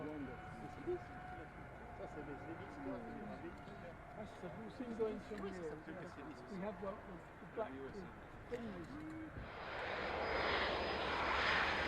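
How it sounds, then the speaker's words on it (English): Steady drone of a propeller aircraft engine heard from inside the cabin, with a voice talking over it and the engine noise swelling louder near the end. "the other is just the sound of the aircraft"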